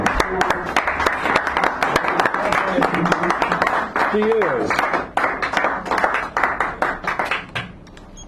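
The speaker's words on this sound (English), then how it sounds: "Give her a nice round of applause." A café poetry-reading audience in San Francisco claps for poet Stephanie Manning, steady applause continuing for several seconds with brief voices mixed in before it thins out.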